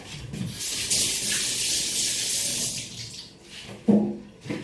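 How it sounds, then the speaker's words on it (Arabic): Running tap water splashes over hands being washed in a kitchen sink, a steady hiss for several seconds with brief clunks near the end, heard alone without talking. "غادي نغسل دابا يديا"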